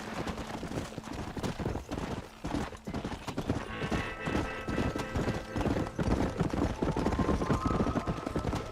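Horse hooves clip-clop in a fast, steady rhythm while riding in the video game Red Dead Redemption, close and continuous over a dense background of game sound.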